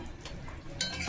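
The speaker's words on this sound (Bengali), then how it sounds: "ভাজা পনিরগুলো দিয়ে দিলাম" Fried paneer tipped into a simmering curry pan and stirred: a brief close scrape and soft bubbling sizzle, quiet, with a sharper clatter near the end.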